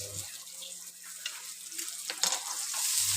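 Finely chopped dried red chili goes into a pan for a Kerala-style drumstick thoran and is stirred, with a soft sizzle and scraping stir sounds, close and moderate, plus a short splash of water near the end.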